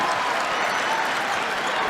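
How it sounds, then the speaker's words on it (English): A basketball arena crowd at an Orlando Magic versus New York Knicks game roars in a dense, continuous wash of cheering and chanting, loud and steady throughout. "Now the crowd's serenading him with Melo"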